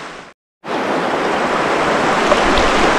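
River water at Landsford Canal rushes in a steady, loud broadband wash after a brief silent gap at the start, with no talking.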